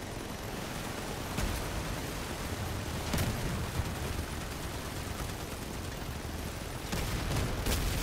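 The Miller minigun in the vehicle combat game Crossout fires as a dense, continuous roaring stream with a few sharper bursts standing out, loud and steady with no speech.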